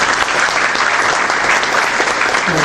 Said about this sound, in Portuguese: uma salva de palmas para os meus assessores